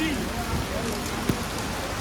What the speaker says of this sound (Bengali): প্রচণ্ড পরিমাণে বৃষ্টি হচ্ছে, প্রচণ্ড পরিমাণে।